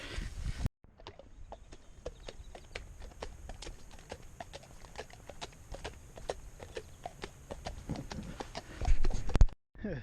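Steady, regular clip-clop of a horse's hooves on a hard surface at a walking pace, fairly close, over a faint background hiss.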